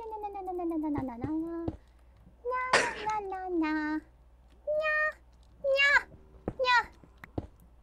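A voice imitates a cat, giving a series of drawn-out meows in separate bursts with short pauses between, close and clear, amid gameplay chatter.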